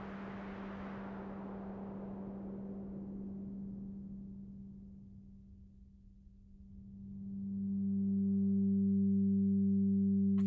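Synthesizer noise fading in and out under a steady low drone, washy hiss gradually tapering then rising again as a filter opens, with sustained tonal hum layered beneath, fairly quiet overall.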